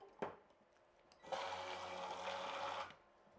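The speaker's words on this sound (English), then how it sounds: "So I'm going to use an immersion blender." An immersion blender running at full speed whirs steadily for about a second and a half while emulsifying oil into garlic aioli, preceded by a brief clack.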